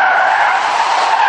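A car with ESP switched off skids through a swerve test, its tires letting out one loud, continuous squeal that holds steady for over a second, with no voices.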